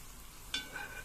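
Chopped onion hitting hot oil and local ghee in a pan, a sudden sizzle that bursts up loudly midway and settles into a steady frying hiss.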